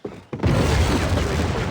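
A grenade detonates in the video game Critical-Strike, a sudden loud boom after a brief thud, followed by a heavy rumbling roar that sustains without fading.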